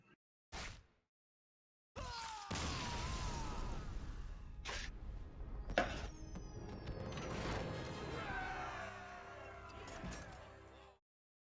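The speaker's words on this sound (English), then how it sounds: "Just watch the fireworks go off." Fireworks burst in a video game's victory celebration, a rapid string of crackles, whooshes and pops that runs loud and dense for about nine seconds after two brief opening bangs.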